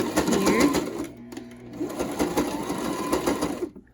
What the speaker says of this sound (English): So and then sew it here.